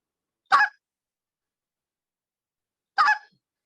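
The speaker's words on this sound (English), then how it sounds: "we're going to teach the spit note" Two short, sharp honking bursts from a short reed goose call, each a quick spit note, spaced a few seconds apart with silence between, close and crisp.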